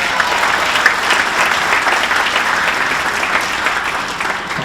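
An audience at a sports hall of fame induction ceremony applauds in a loud, sustained burst of dense clapping that stays even throughout, with a faint murmur of the crowd beneath.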